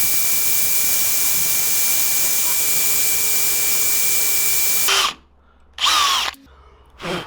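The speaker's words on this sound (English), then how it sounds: "Then you drill into the bolt." A power drill whines loudly and steadily for about five seconds as it drills into a broken bolt, then stops and gives a couple of short bursts.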